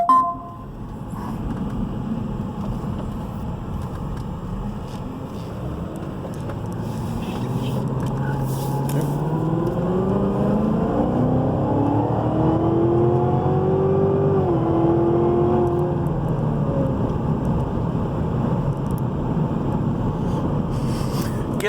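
A 2016 Cadillac CTS-V Carbon, a repairable salvage car, builds steadily from a low drone into a rising, loud engine pull while driving, with rushing wind noise throughout and no talk.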